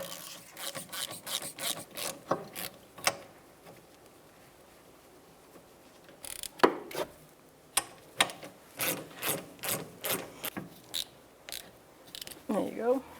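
Ratchet clicking in rapid bursts while loosening a brake caliper slider bolt on a 2008-13 Mazda 3, close and fairly loud, with pauses between runs and a few sharper knocks.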